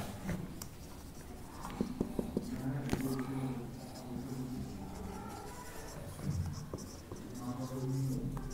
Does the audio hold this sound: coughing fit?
no